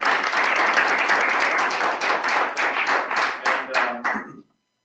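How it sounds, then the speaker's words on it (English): Audience applause at a technical presentation on environmental sensors, a room of people clapping steadily for the team, thinning into a few distinct claps before stopping abruptly. "can I ask for a round of applause for the team?"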